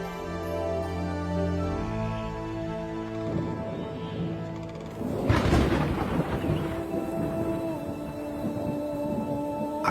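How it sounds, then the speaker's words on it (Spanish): Thunderstorm with rain in Kenya's Masai Mara: steady rainfall under a sustained musical tone, then a loud rolling thunderclap about halfway through that rumbles on, with no talking. "Al regresar a Masai Mara, seguía lloviendo."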